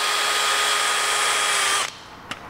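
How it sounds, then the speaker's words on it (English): A power drill bores holes for the adaptor plate of a SHAD SH59X top case on a Piaggio BV400 scooter, a loud steady whine for nearly two seconds that cuts off, followed by a short click. "And we'll just start drilling those holes out."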